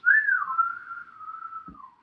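One person whistles a sustained, fairly loud note that wavers slightly and slides down at the end, alone and with no talking.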